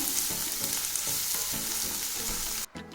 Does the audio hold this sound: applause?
no